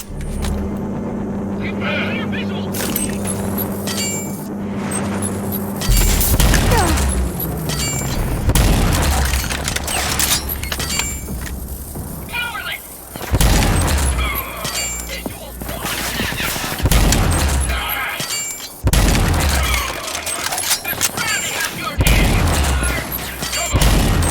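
Bolt-firing weapon in the game Rage 2 going off in repeated sharp bursts at close range, each shot a loud crack with some boom, spread across the clip over a steady low engine-like rumble.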